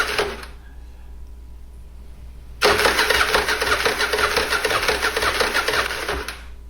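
A 40-year-old Yamaha Virago XV920 motorcycle engine cranks over on the starter. After a short quiet hum, a loud, steady, churning cranking sound runs for about four seconds, then cuts off abruptly.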